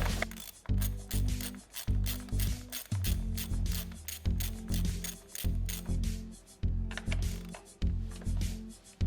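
A ratchet with a long 10 mm socket loosens the bolts on a Honda EP3 during a spark plug change: repeated bursts of fast, rhythmic clicking, close and fairly quiet, with brief pauses between strokes.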